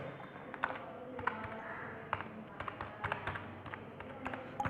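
Keys tapped on a computer keyboard while entering text in MS Word, a quick uneven run of close, crisp clicks over a steady low room hum, with no one speaking.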